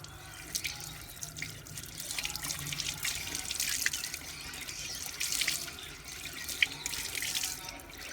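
Water running from a tap into a sink to wet a cloth, a steady splashing hiss with a few drips, moderately faint and continuous with no voices.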